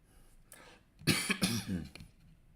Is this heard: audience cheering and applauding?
no